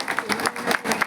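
Audience clapping at a large tribal community gathering in Brahmapuri, Chandrapur district, Maharashtra, a burst of uneven hand claps from a crowd with irregular, close, fairly loud beats over a short stretch.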